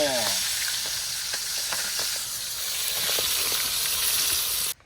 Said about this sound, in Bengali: ওই তো মাছ ভাজা হচ্ছে